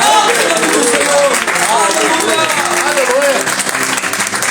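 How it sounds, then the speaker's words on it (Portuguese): Church congregation applauding during an evening prayer service, a steady wash of clapping that fills the whole stretch with a voice sounding over it. "Se você recebe, aplauda, glorifica e aplaude o nome do Senhor"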